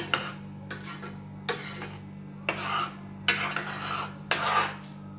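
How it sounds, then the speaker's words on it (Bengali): Oats and apple porridge with honey is stirred in a pan, with six brisk scraping bursts of a spoon against the metal, close and fairly loud, separated by short pauses over a low steady hum. "ভালো করে মিশিয়ে দিচ্ছি।"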